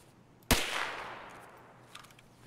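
A single sharp gunshot cracks out close by in a first-person shooter game, with a long echoing tail that slowly fades over the next two seconds, followed by a faint clatter.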